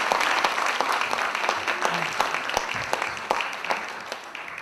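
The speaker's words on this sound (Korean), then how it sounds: "박수 해주세요" Steady applause from a crowd filling the whole stretch, with sharp individual claps standing out and occasional voices mixed in.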